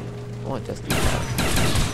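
Shotgun blasts in the shooter game Call of Duty: Black Ops, two sharp loud bursts a fraction of a second apart with crackling decay after each.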